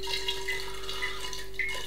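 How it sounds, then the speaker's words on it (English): Pimm's poured from an awkward jug, a soft liquid trickle and splash with faint dripping, steady and close for a couple of seconds. "This jug is a nightmare to pour from."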